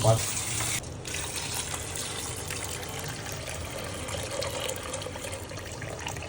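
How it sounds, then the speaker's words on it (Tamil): Water gushes steadily into a pressure cooker holding soaked white chickpeas for a kurma, a continuous close pouring that briefly shifts in tone near the start, with no talk over it. "இந்த சுண்டல் முங்குற அளவுக்கு நம்ம இதை தண்ணி ஊற்றணும்"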